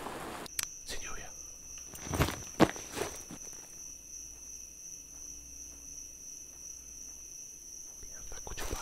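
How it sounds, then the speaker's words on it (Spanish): Footsteps in the survival shooter Road to Vostok at night, a few soft steps and thuds up close early on, then a quiet stretch with faint insect chirping and a steady high tone. "Mierda, escucho pasos."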